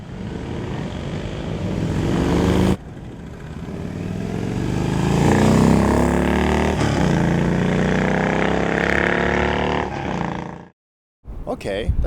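Motorcycles ride off along Route 66, engines revving up into a loud, rising roar with gear changes, briefly cutting and returning as the bikes pull away; no clear talk.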